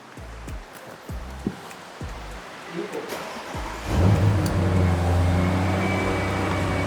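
An Audi S8 twin-turbo 4.0-litre engine cranks with several rhythmic turnovers, then catches and roars to life into a loud, steady idle rumble.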